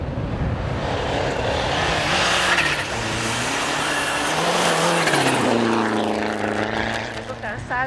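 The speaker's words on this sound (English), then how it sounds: "Pellegrini, third after the second stage, leads the rally with his Lancia Delta in the third test." A Lancia Delta rally car races along a stage of the historic Rally Storico Valle del Tevere, its engine revving loudly and rising and falling through gear changes as it passes, with a commentator talking over it.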